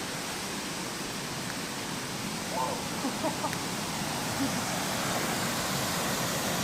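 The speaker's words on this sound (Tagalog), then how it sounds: "At ito na ang falls, mga kabuang." Steady broadband rush of a waterfall at a visited falls, constant and fairly close, with faint voices murmuring briefly underneath.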